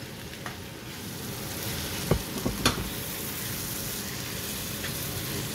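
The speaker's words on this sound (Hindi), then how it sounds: "इन्हें हम अच्छी तरह 3 से 4 मिनट भूनेंगे" Green peas and corn kernels sauté in a pan with steady broadband sizzling, broken by a few sharp spoon-scrape clicks around the middle, with no talking.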